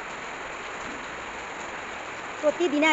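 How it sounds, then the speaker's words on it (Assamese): Heavy rain pours down in a steady, dense hiss that never lets up, with a voice speaking briefly near the end. "বৰষুণ দি আছে"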